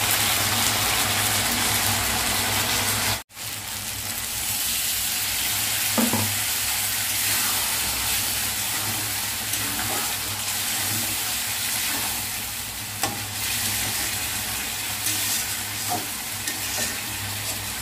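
Meat braises in oil and spices while being stirred, giving a loud, continuous sizzle with scraping stir sounds and a brief near-silent dropout early on.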